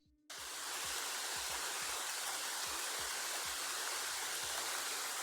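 Winter rain from an ambient sound-effect sample, switching on abruptly as a loud, dense, steady hiss of rainfall over a repeating low beat.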